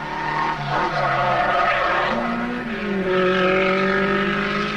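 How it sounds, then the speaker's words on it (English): A works-prepared VW Beetle rally car races flat out on a 1973 Rally de Portugal stage, its engine loud and close as it climbs and shifts through rising, droning revs without pause. "Unfamiliar on international rallies, a flying VW Beetle."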